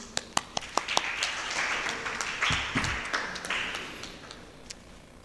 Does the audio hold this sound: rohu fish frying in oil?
no